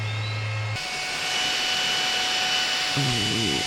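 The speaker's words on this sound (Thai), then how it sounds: "ดีที่มีพัดลมหน่อย" An electric fan runs inside a campsite tent as a steady, even whoosh of airflow that holds constant throughout, with brief voices rising near the end.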